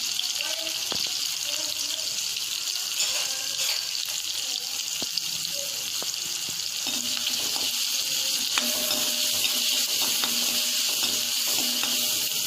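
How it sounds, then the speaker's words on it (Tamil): Onions sizzle steadily in a hot pan, a constant crackling hiss with occasional stirring clatter, close and continuous. "வெங்காயம் நல்லா வதங்கட்டும்."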